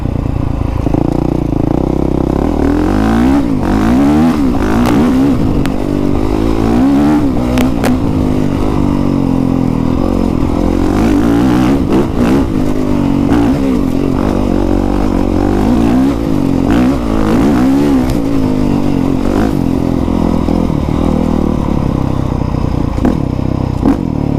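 A 2020 Honda CRF450R dirt bike with twin exhausts revs up and down repeatedly, loud and close, with rising and falling pitch sweeps and a rough, throaty exhaust tone throughout.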